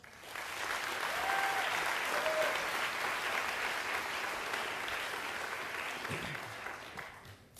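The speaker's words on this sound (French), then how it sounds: "Je vous demande d'applaudir Vianney." An audience at a French eloquence contest final applauds the speaker Vianney with steady, dense clapping that fills the room for several seconds before thinning out at the end.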